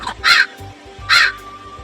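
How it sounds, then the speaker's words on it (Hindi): Two loud caws from a crow outside a house ring out about a second apart, close and clear over a low steady background hum. "देखती है कि उसके घर के बाहर तो एक कौवा बैठा था"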